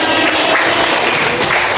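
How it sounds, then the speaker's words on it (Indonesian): Dense, continuous clapping from a crowd, steady and fairly loud throughout with no voices standing out. "Beri tepuk tangan."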